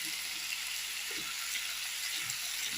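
Masala sautéing in a hot pan gives off a steady, even sizzling hiss, with faint soft stirring movements underneath and no talking.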